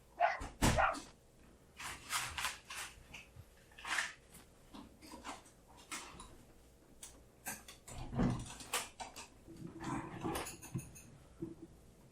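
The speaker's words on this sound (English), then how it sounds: "you might hear a dog barking in the background" A puppy barking in the background of an indoor room, a series of short, sharp yaps scattered across the stretch at moderate distance, mixed with some clattering handling noises and no talk.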